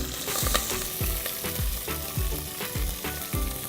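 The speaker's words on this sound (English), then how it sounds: "And just stir that onion really well in that seasoned oil" Chopped onion and curry leaves are stirred in hot seasoned oil for five lentil dhal, with a constant sizzle under regular, rhythmic scrapes of a spoon across the pan, about one every half second, close and clear.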